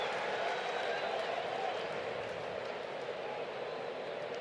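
A big ballpark crowd at a Phillies vs Braves game applauds and murmurs as a broad, steady roar that stays distant and even throughout, while broadcast commentators talk over it.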